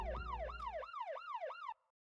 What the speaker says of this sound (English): Lindsay, please turn on the siren.